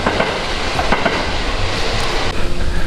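A Kintetsu train rolls past on the line just north of Iseshi Station, a steady loud rumble of wheels on rail with faint rhythmic clicking, continuing unbroken and swelling slightly near the end.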